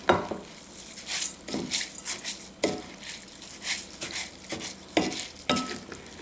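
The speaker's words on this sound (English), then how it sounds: "And then we're just gonna stir this up." A spoon stirs a dolma filling of rice and herbs dressed with olive oil in a bowl, with repeated wet scraping and clinking strokes in an irregular rhythm, close and fairly loud, no voices.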